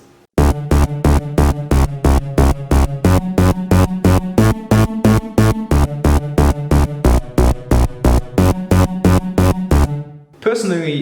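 A reverse bass synth from a lofi-flavoured happy hardcore drop pumps in rapid, even pulses for about ten seconds. It is loud and driving, with kick-like thumps locked to the beat and a pitch step midway.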